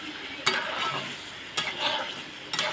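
A spoon stirring a hog plum fish curry thickened with rice flour in a pot, three distinct scraping strokes over a soft, constant simmer and sizzle, close and clear with no talking.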